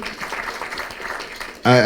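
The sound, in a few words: audience applauding at a rally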